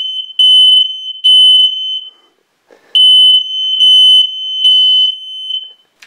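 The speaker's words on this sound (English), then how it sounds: "This is what happens when you blow electronic cigarette vapour into a fire alarm at point blank range." A ceiling smoke alarm set off by e-cigarette vapour blown into it at point-blank range shrieks in loud, piercing bursts, with brief pauses and a gap partway through before the shrill beeping resumes, close and harsh.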